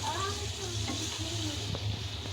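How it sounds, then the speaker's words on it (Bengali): Spiced teasel gourd sizzles steadily in hot oil left from frying fish, cooked over low heat in a large frying pan, with a continuous close crackle and faint stirring throughout. "যে তেলের মধ্যে মাছ ভেজে নিছি সেটার মধ্যেই আমি এখন কাঁকড়গুলা ভেজে নেব"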